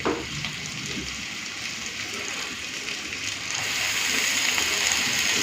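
Spinach goes into a pan of fried prawns, onion, potato and eggplant, setting off a steady wet sizzle and hiss that swells louder toward the end, with no talking.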